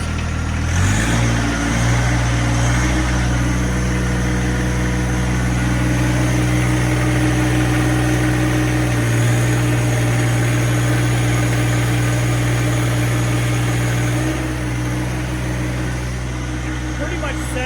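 A John Deere 2025r compact tractor with a 120r loader runs steadily with its engine raised to about 2,500 RPM. The hum is loud, continuous and even, with a nearby voice talking over it.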